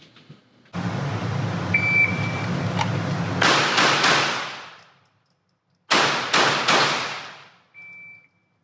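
Six shots from a Glock pistol with a 15-round magazine during an FBI qualification drill, fired as three sharp cracks, a pause of about a second and a half, then three more, each ringing out over a steady background hum with a short electronic beep near the end.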